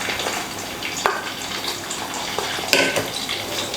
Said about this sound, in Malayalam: ഈ സമയത്ത് നമുക്കിതിലേക്ക് 15 കൊച്ചുള്ളി ചേർത്ത് കൊടുക്കാം